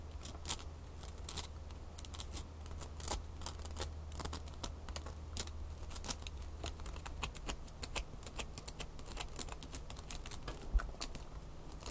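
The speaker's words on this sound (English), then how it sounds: "These are gummy candies. The sugar on there is giving a great scratching sound." Gummy candies with a hardened sugar coating are scratched up close, giving a dense, steady run of crisp, dry scratches and ticks with no talking.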